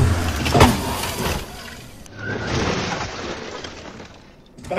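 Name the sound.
car being deliberately rammed and dented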